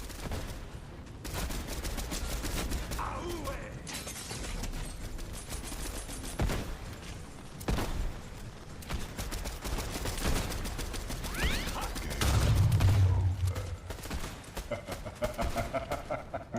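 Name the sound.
rifle gunfire in a video game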